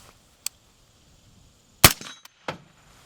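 A rifle fitted with a Riflespeed gas control set to 5 fires one loud, sharp shot close by, with a clanking rattle after it and a few fainter clicks before and after.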